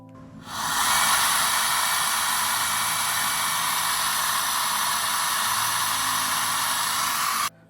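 A VSGO camera sensor blower runs as an inflator, giving a steady, loud rushing hiss of air that starts abruptly, holds for about seven seconds and cuts off sharply.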